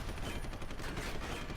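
Assault rifle gunfire in Deus Ex Human Revolution, a faint, dense stretch of continuous shooting in the background with no voices.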